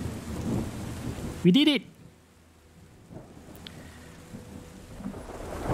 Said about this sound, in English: We've got some beautiful rain.